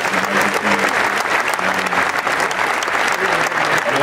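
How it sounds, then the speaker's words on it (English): A round of applause from the audience at the Mr Olympia 2017 press conference, dense, loud clapping sustained evenly across the whole stretch with no talk over it. "if we can get a round of applause for them for being here in his honour as well"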